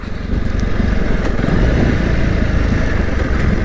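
Honda CRF300L Rally motorcycle riding along a road, engine running as a steady, loud drone with wind noise throughout, no voices.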